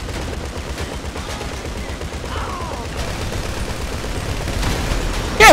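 Gunfire in the video game GTA V Online rattles in dense rapid bursts at fairly high volume, with a louder hit right at the end.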